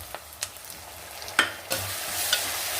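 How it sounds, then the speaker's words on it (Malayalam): Sliced tomatoes and shallots sauté in a pan with curry leaves for a mackerel chili curry. A soft sizzle runs under occasional scraping stirs and clinks of a spoon against the pan, then grows brighter toward the end. "തക്കാളി ഒന്ന് നല്ല വഴന്ന് വരട്ടെ"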